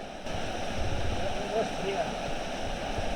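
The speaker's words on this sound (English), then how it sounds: "So we've come to another waterfall here in the dark." A waterfall in the Scottish hills at night roars as a dense, continuous rush of water close by, with a brief low voice murmur partway through.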